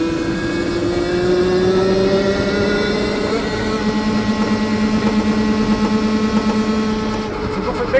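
Citroen Ami small electric car driving fast at half battery, a steady whine rising slowly in pitch with continuous road and wind noise throughout, fairly loud and close, no talk over it.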